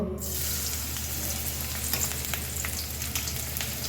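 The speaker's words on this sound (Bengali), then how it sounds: "যে তেলটা গরম হয়ে গিয়েছে এখন পেঁয়াজ কুচি দিয়ে দেব" Chopped onions hit hot oil in a pan, giving a loud, continuous dense sizzle with fine popping that stays close and steady throughout.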